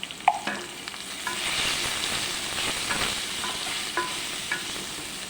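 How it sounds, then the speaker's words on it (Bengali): Potato and pointed gourd curry sizzles in hot oil with a whole cumin tempering and turmeric, giving a steady close frying hiss broken by occasional clinks of stirring. "তো আলু পটলের তরকারি বসিয়ে দিলাম, গোটা জিরে ফোড়ন দিয়ে হলুদ গুঁড়ো দিয়ে দিলাম"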